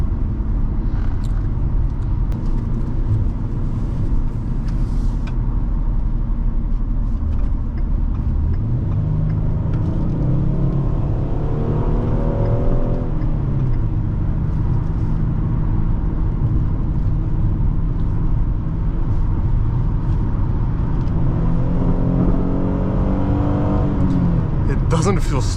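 A 2014 Ford Taurus Police Interceptor with a 3.7L engine accelerates hard under steady cabin road noise, its revs climbing through two gear pulls, heard from inside the car.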